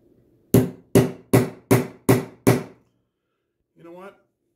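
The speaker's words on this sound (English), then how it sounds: "So let's just give it a test. The 16 penny nail first." A 16-penny nail is struck six times with a Bell and Howell tac tool hammer. The blows are sharp, evenly spaced and close, followed by a pause and a short spoken remark.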